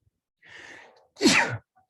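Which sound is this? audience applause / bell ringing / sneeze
sneeze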